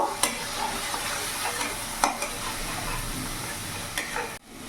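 Ground cumin, turmeric and chili powder stir in hot oil in a frying pan over a medium flame for a fish-head muri ghonto, giving a steady close sizzle broken by a few sharp scraping strokes, with no talking.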